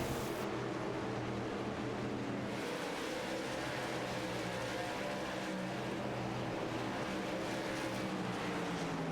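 Race cars roar around the Richmond short track during an all-star race, a sustained loud engine drone with revving swells and no commentary over it.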